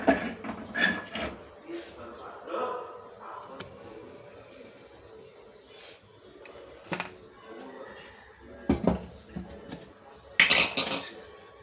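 A metal handi cooking pot is set on a gas stove with several sharp clanks and knocks, some close and loud. Quieter handling noises fall between the clanks.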